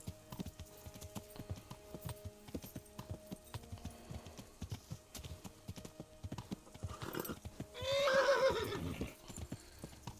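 A horse whinnies loudly for about a second amid steady hoofbeats clip-clopping and game-like background sounds in Kingdom Come: Deliverance.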